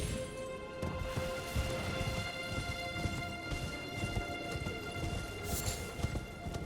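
A horse gallops in Elden Ring, its hooves beating a fast, steady clip-clop over a dense bed of game ambience and music throughout.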